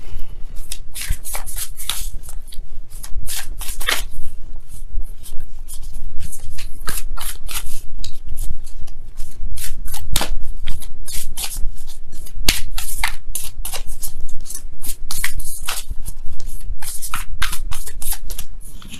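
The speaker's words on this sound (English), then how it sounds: "let me go ahead and really shuffle." Rapid, crisp riffling of tarot cards being shuffled repeatedly up close, with sharp flicks and bursts throughout.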